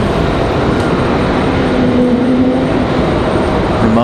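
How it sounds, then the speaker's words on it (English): A Frontier A320 airliner at Raleigh-Durham airport gives off a steady, loud broadband jet roar with a faint whine running through it, continuous and unbroken, with no talk. "Frontier A320 to Miami."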